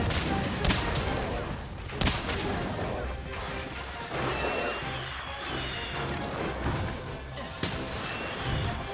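A bow in a Monster Hunter game, fighting a Great Izuchi, fires an aerial special shot: a dense clatter of impacts, thuds and crashing hits, loud and busy, with a voice talking over parts of it.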